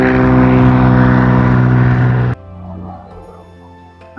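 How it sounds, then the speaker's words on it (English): A skydiving plane takes off from an aerodrome in Empuriabrava, Spain, its loud propeller engine droning steadily before cutting off abruptly into quieter background rumble. "So there's one of the planes just taking off."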